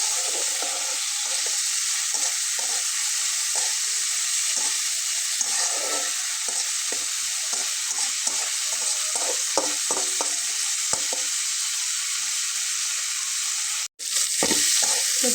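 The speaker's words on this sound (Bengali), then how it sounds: "এটাকে চুলায় দিয়ে ঠিক এখানে তেলটা দিয়ে খুব ভালোভাবে এটাকে ভেজে নিতে হবে।" A chicken vorta mixture fries in oil in a pan on the stove, a loud, continuous sizzle with scattered crackles and stirring scrapes, no voices.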